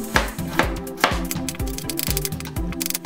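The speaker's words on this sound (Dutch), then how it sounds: "Gaan we deze aardappels in kleine stukjes snijden." Potatoes being chopped into small pieces with a knife on a cutting board, a fast run of sharp, close knocks repeating steadily about every half second, loud and alone with no talking.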